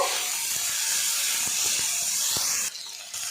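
Spice masala with chopped coriander leaves frying in a pan, giving a steady, even sizzle with a few faint stirring taps, close up and with no voices.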